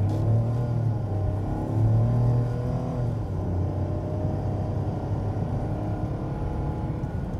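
A brand-new 2021 Ford Bronco Sport Big Bend SUV accelerates in sport mode around town, its engine a loud, steady low rumble with a rising drone early on, heard from inside the cabin without talk.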